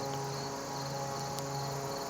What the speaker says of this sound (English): We have one cricket and two little grasshoppers